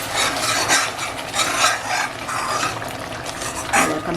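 Schezwan chutney bubbling in a pan while being stirred, a continuous close scraping and swishing with soft sizzle, steady throughout with no talking.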